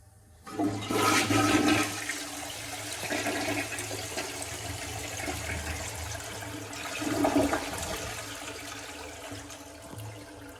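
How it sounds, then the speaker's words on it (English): An AquaSource Kobe toilet in a park restroom flushes with a sudden loud rush of water, then settles into a steady swirling drain and refill that swells again briefly before easing off. "This is a replacement, an AquaSource Kobe toilet."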